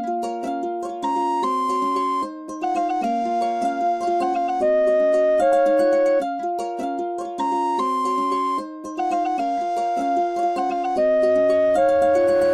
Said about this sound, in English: the flute pattern with the ukulele is sounding like this